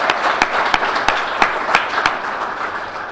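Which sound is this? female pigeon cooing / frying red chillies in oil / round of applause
round of applause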